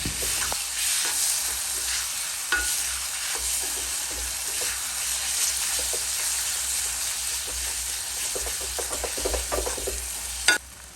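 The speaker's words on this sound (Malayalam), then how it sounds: "ഇനി എല്ലാം കൂടി നന്നായി ഒന്ന് ഇളക്കി കൊടുക്കുന്നു." Chopped tomatoes and crushed green chillies are stirred in a hot pan for Kerala-style beef roast, a continuous close sizzle with scraping stirs and a sharp utensil knock near the end.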